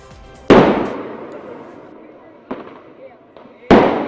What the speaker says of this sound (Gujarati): ફટાકડા ફોડીને લોકોએ ઉજવણી કરી છે